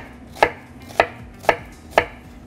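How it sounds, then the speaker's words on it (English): A chef's knife cuts straight down through an onion on a cutting board, four crisp, evenly spaced chops about half a second apart, close and clear with nothing else heard. "we're going to start by cutting straight down"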